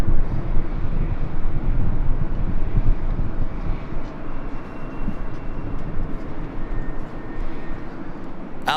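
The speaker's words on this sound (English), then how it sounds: "KLM Flight 602 heading back to Amsterdam in a 787-10" KLM Boeing 787-10 Dreamliner departing LAX for Amsterdam, a broad, loud jet engine roar that holds steady throughout and eases slightly toward the end.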